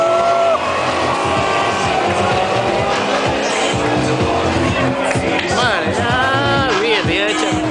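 Ford Mustang and Nissan Skyline launching in a drag race elimination, loud engines revving and roaring away with squealing tires and rising pitch sweeps, under crowd noise and excited commentary.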